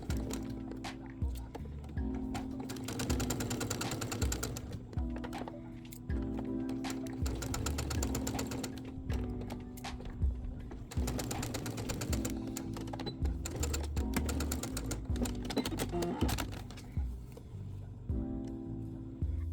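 Sewing machine stitching darts on back skirt panels, a close mechanical whirring in repeated bursts separated by short stops, with a steady low hum throughout.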